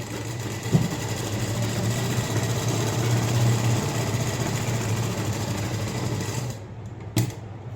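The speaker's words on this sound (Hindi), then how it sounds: "सीधी सिलाई लगा देंगे।" A sewing machine runs a continuous straight stitch on a blouse, a steady buzzing whir close by that stops abruptly near the end, leaving a quiet room and a small click.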